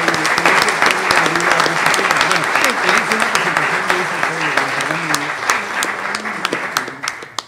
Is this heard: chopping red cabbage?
no